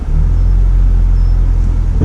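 A Ford Fiesta ST is being driven, with a loud, close, steady low rumble of engine and road noise. No distinct strange noise stands out.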